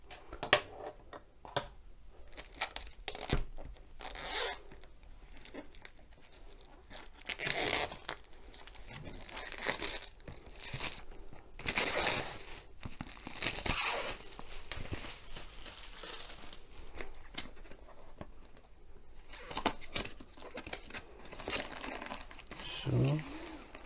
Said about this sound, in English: So now cut the cellophane,